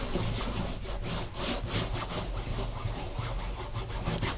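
Stamped paper is rubbed by hand to press down the inked image for a Stampin' Up! butterfly gatefold card. The brisk, continuous rasping strokes are close and loud and stand alone.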